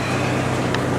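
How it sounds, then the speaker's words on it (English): Outdoor wind buffets the microphone beside a Jeep XJ during an R12 air-conditioning recharge, making a steady, loud, broadband rumble and roar for the full second with no speech. "the wind is going to be kind of horrific"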